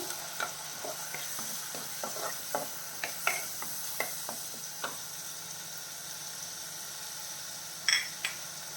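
Ground masala paste stirred in a hot pan for a Kerala-style crab roast: a steady low sizzle with repeated sharp scraping taps of a spoon against the pan, close and fairly quiet, with no voices.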